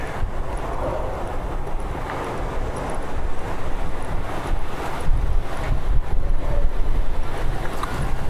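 Strong wind buffets the microphone outdoors on a walk, a loud continuous low rumble with gusty swells and no break, masking everything else.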